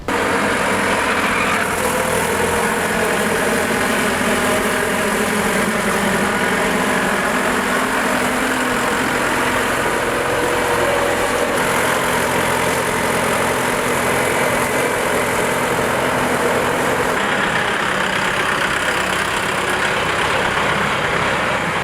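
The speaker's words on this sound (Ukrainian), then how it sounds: "Трактор оснащено 4-циліндровим дизельним двигуном з турбонадувом" A heavy four-cylinder turbocharged diesel tractor engine, a KIY 09504, idles steadily and loudly, with a constant low rumble and rattle and no voices.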